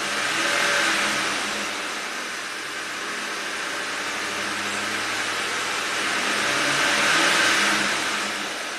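A Ford 5.4L three-valve V8 with a VCT fault, one that runs on four cylinders when hot, is revved in a shop, giving a steady, loud rising and falling roar that swells twice without any talking.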